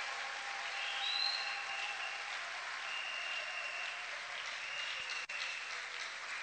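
Congregation applauding during a church thanksgiving service, a steady dense patter of clapping held at an even level for several seconds, with no voices over it.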